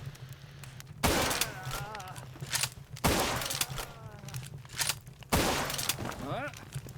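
Assault rifle gunfire in the video game Palworld: three loud bursts of shots about two seconds apart, each trailing off, over a steady low background hum.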